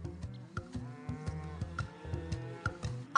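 Several cows moo in overlapping, drawn-out calls in the video game Putt-Putt: Pep's Birthday Surprise, one after another at a steady pace, fairly close and clear.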